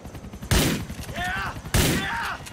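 Two sharp gunshots in the video game GTA IV, about a second apart, each followed by a ringing tail, with a faint voice murmuring underneath.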